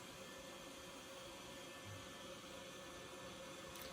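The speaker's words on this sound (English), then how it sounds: "trusty heat gun." A heat gun used on an RC rock crawler part blows in a steady, even broadband hiss that holds at a constant level from start to finish with no pauses.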